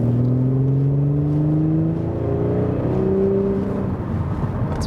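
An Audi S4 V6 sedan accelerates hard on the Autobahn, its engine note climbing steadily through the gears as a loud, continuous drone with rising pitch and constant road and wind noise inside the cabin.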